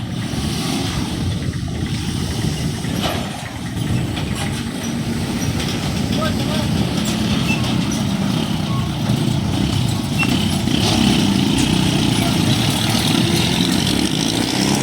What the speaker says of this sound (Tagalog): Jeep may kargang isda.